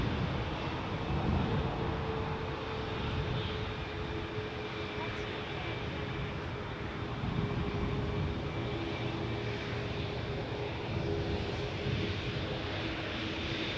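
An Air Canada cargo jet taxiing at Toronto Pearson Airport, a steady distant engine rumble and whine that holds level throughout.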